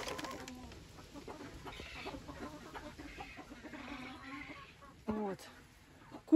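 Laying hens cluck in short, irregular bursts close by in straw, with a brief louder squawk near the end and some rustling underneath.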